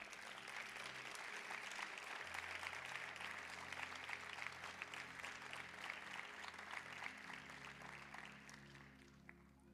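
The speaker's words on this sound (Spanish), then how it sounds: "Dele ese fuerte aplauso a Jehová" A church congregation at a youth service claps for God, a sustained dense applause continuing throughout, fairly faint and distant, with a low steady hum beneath.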